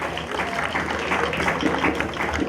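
Audience applause at the inauguration of a cultural space in Guadeloupe: dense, steady clapping from a crowd, fairly close and sustained throughout, with a voice talking faintly underneath.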